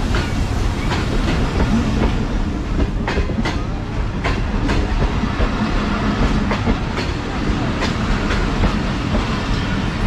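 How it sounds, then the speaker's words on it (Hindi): Pakistan Express train approaching Toba Tek Singh railway station, a steady loud rumble of rolling wagons with repeated clickety-clack wheel beats and faint hiss throughout. "अब पाकिस्तान एक्सप्रेस अप्रोच कर रही है Toba take Singh railway station पे"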